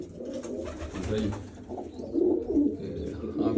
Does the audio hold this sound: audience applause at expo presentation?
no